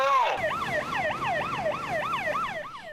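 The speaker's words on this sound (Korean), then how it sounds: "긴급 출동한 해경배가 사이렌을 울려 주변 선박의 접근을 차단합니다." A coast guard boat responding to a chemical tanker fire at sea sounds a wailing siren, repeated rising and falling sweeps, loud and continuous throughout.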